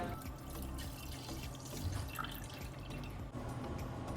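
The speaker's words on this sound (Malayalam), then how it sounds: "പിന്നെ ഒരു പാത്രത്തിലേക്ക് രണ്ടര കപ്പ് പാല് ഒഴിച്ചു കൊടുക്കാം" Milk being poured into a pot, a faint steady trickling and splashing of liquid close by, with soft drips and no talking.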